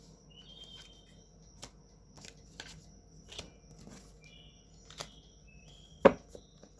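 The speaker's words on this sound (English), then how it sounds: "Been hard shuffling my cards." Playing cards are handled and shuffled softly nearby, giving faint scattered ticks and flicks over a quiet background, with one sharper snap near the end.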